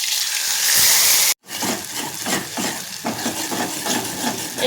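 A paste of ginger, garlic, chili and coriander dropped into hot oil hisses into a loud burst of sizzling, which then breaks into a steady crackle with clinks of a spoon stirring in the pan, heard up close without speech.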